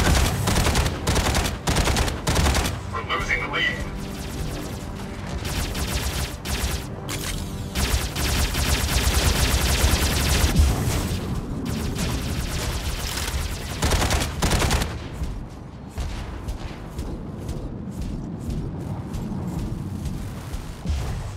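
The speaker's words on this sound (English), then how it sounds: "Incoming fire!" Mechs in the mobile game Mech Arena trade heavy fire in a continuous, loud barrage of rapid gunshots and booming blasts that keeps going throughout, with brief gaps and shifts in intensity.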